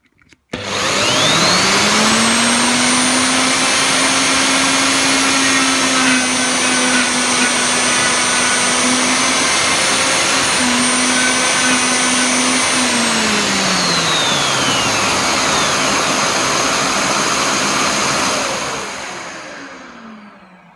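Router drilling dowel holes in MDF: a loud whine spins up, holds steady for about sixteen seconds with a brief dip as the bit cuts, then winds down, close and without talk.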